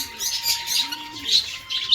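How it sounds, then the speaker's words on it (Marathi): Birds call at a bird park, with a clear repeated chirp and tweet pattern across the short stretch and a faint low coo-like tone underneath; a steady whistle-like drone and some distant voices sit in the background. "कबूतर आहे"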